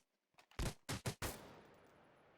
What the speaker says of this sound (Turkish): P250 tabanca. CSGO'da.